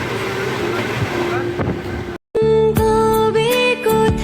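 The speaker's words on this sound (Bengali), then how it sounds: "এটা হলো 13028 ডাউন আজিমগঞ্জ হাওড়া কবিগুরু এক্সপ্রেস।" 13028 Azimganj–Howrah Kabiguru Express train passing, loud rumbling run that cuts abruptly into sustained tonal horn-like blasts and clattering, close and continuous.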